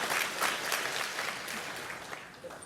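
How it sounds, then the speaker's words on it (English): A room of attendees at a real estate marketing talk claps, a fairly faint, fading patter of applause heard alone without talk. "You can clap for that."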